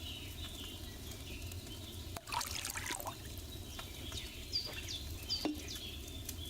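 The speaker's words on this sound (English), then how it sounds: "What did you pour in there? Wine, of course." Wine poured from a pitcher into a cauldron in Kingdom Come Deliverance 2, a quiet steady trickle with soft splashes over faint background ambience.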